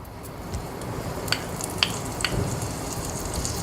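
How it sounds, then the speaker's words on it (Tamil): Butter cubes melt in a hot pan while soup is being made, giving a soft, steady sizzle with a few faint clicks and pops close by. "அதில் வந்து கொஞ்சம் வெண்ணெய் க்யூப்ஸ், சும்மா ஒரு 4-5 வெண்ணெய் க்யூப்ஸ் வந்து சேர்த்துக்கோங்க."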